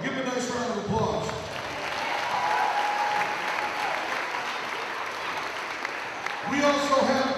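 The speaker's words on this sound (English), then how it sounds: "Give them a nice round of applause." An audience at a Harlem Wizards basketball show claps in a sustained burst of applause lasting several seconds, with an announcer's amplified voice heard over it at the start and end.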